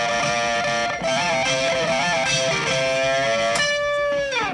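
Distorted electric guitar lead played through a harmonizer pedal, with a dense layered tone and stacked harmonies: fast melodic runs, then a final note held as it fades out, loud and alone with no talking.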